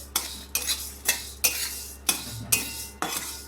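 Hemp seeds dry-roasting in a pan are stirred in a regular rhythm, about eight quick scraping sweeps of a spoon against metal, each a sharp rasp fading before the next, close and clear.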